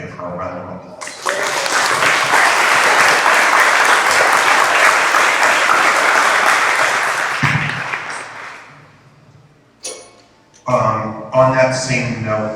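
An audience at a school business officials' association meeting breaks into loud, sustained applause lasting several seconds, then fades as a voice begins speaking over the room.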